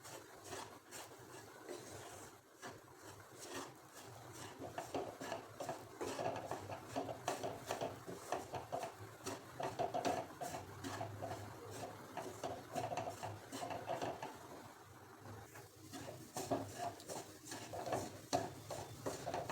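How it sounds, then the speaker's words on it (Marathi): Semolina and sweet mixture being stirred and roasted in a pan for a motichoor-style laddu, a steady scraping and rubbing of spoon against metal, moderately loud and continuous with no talk. "आपल्याला हे भाजून घ्यायचे छान खमंग"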